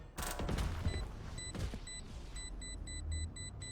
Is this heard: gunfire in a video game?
yes